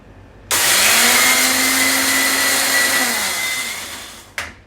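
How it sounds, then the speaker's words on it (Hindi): A kitchen mixer grinder coarsely grinds ingredients in one loud continuous whirring run of about four seconds. The motor starts abruptly, sags slightly in pitch as it runs, then cuts off, followed by a brief clatter. "तो यहाँ पे मैं चला लेती हूँ मिक्सी।"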